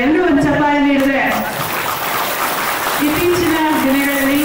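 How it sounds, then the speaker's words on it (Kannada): Audience applause at a Kannada film teaser launch, steady clapping from a crowd that swells and holds throughout, with people talking over it. "ಎಲ್ಲರೂ ಒಂದು ಚಪ್ಪಾಳೆ ನೀಡಿದ್ರೆ"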